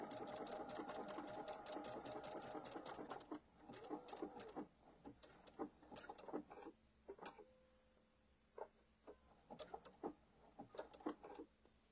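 A sewing machine stitches a shamrock design in rapid, clattering bursts, stopping and restarting in short irregular runs with brief pauses between, close by and fairly quiet.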